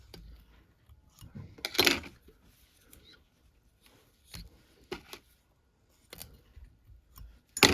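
Scissors cutting fly-tying thread while a squid fly for fluke is tied give a few short, sharp snips spread apart, close and fairly quiet, with small handling clicks between them.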